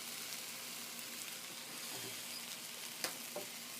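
Egg sizzling with rice in a hot pan for chicken fried rice, a steady close crackling hiss with a few faint clinks and stirring taps.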